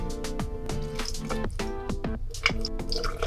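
A digestion drink of fiber, glutamine, aloe vera juice, apple cider vinegar and lemon water is stirred in a glass, giving a steady run of rhythmic clinking and liquid sloshing, close and fairly loud.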